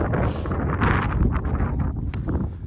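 Wind on Jade Dragon Snow Mountain buffets the microphone as a steady, loud low rumble with gusty swells and faint rustling throughout.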